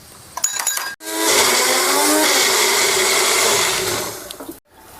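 A kitchen mixer grinder coarsely grinds onions in one steady, loud whirring run of about four seconds, starting and stopping abruptly, with brief clatter before and after.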